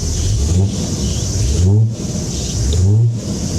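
A 1999 Toyota Land Cruiser 70 ZX, with a suspected exhaust leak, runs close by, its engine note rising in three short revs over a steady idle and a hissy background.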